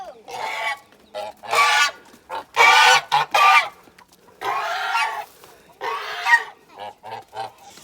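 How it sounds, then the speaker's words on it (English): Geese honking loudly and repeatedly nearby as they are driven in, a series of harsh calls in bursts. "Jasmine, drive your geese in, please."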